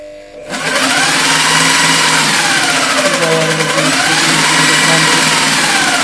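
Scroll saw machine switched on through a dimmer, a loud, close, continuous motor whine and buzz that starts abruptly and holds steady, with slight swells in pitch as the speed shifts.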